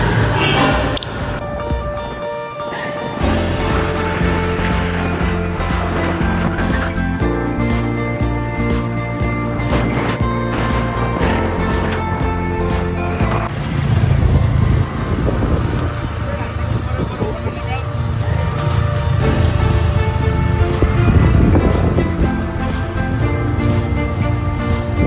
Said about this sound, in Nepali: अगाडि चाहिँ हाम्रो 220 पल्सरमा हाम्रो दाजुहरू हुनुहुन्छ र हामी चाहिँ स्कुटरमा पछिपछि पछ्याउँदै पछ्याउँदै आउँदैछौँ